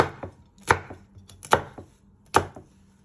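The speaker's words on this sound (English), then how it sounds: "And then you're just slicing it one way." A knife slicing food on a chopping board: three or four crisp, close thunks spaced under a second apart, each trailed by softer taps, with no talking.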